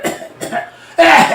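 A person imitates a dry, non-productive cough, producing three short harsh bursts with the last one loudest, close and alone without talk.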